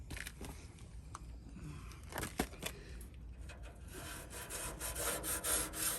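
A bottle brush scrubs a car door's window track with soapy water, producing close, rhythmic rubbing and scraping strokes that grow slightly busier toward the end.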